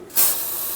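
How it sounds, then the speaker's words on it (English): Brake parts cleaner sprayed onto a wheel of a 2003-2009 Dodge Ram 2500 during brake bleeding: one short, sharp aerosol burst that quickly tails into a softer lingering hiss, close to the microphone. "I'm going to take some brake parts cleaner, spray it all over to get rid of all the brake fluid"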